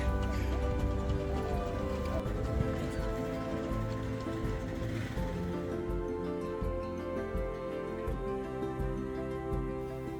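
Steady drizzly rain falls during a cycling and camping trip in the Netherlands, a continuous close hiss of light drops pattering on surfaces with no break across the whole stretch.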